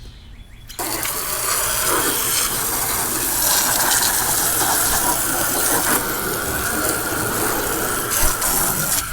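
A loud, steady hiss of water spraying from a hose or pressure washer onto a primed car starts after a moment and keeps going without a break.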